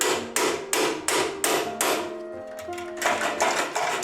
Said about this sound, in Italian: continuiamo a colpire col nostro martello